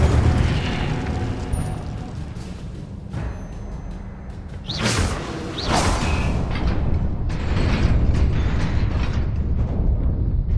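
Incendio fire spell cast in the video game Hogwarts Legacy: a loud whooshing burst of flame around the middle, followed by crackling, rumbling fire and mechanical noise that carries on to the end.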